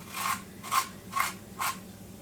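A small potato, a little bigger than a tangerine, rasped against a grater for hash browns in a home kitchen: four even rough scraping strokes in a steady rhythm, close and moderately loud.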